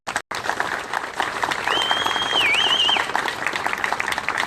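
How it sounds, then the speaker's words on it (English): Audience applause at an outdoor Indiana Bicentennial torch relay ceremony in Washington County, steady clapping from a crowd rising and holding for several seconds after a brief gap, with a whistle-like tone sliding through the middle. "Let's give this group a round of applause."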